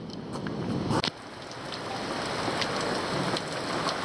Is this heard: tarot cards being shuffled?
no